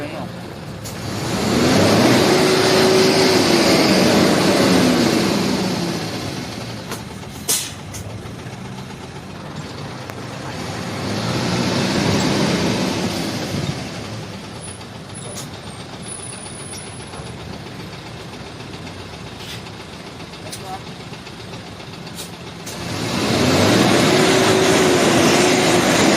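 A truck's diesel engine, running on fuel made from used cooking oil, is revved three times, each rise swelling into a loud roar and then easing back to a steady idle, with occasional voices nearby.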